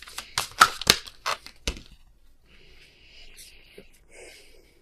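Tarot cards being shuffled and handled during a love reading, a burst of quick papery slaps and riffles up close, then softer rustling and faint whispery noise trailing off.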